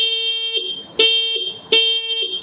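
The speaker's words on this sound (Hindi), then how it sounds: "काफ़ी तीखा सा इसका हॉर्न है।" A Bounce Infinity E1 electric scooter's shrill electronic horn beeps three times in quick succession, loud and close, each a sharp tonal blast.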